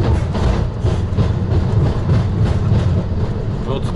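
Strizh passenger train running on rails at about 132 km/h, a steady loud low rumble with faint rhythmic clatter heard from inside a European-style luxury carriage, with no talk over it.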